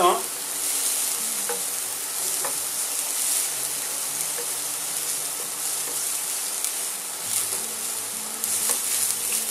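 Shallots frying gently in a pan for a salmon and caper fettuccine sauce, a steady close sizzle with faint stirring clicks running throughout, no voices.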